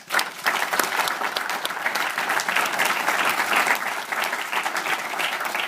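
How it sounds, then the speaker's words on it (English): Graduation audience at a respiratory care ceremony breaks into sustained applause, dense steady clapping filling the hall for several seconds without a pause. "let's give them a big round of applause"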